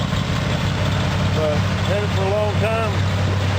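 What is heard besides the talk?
1978 Jeep CJ7 304 V8 engine running with dual exhaust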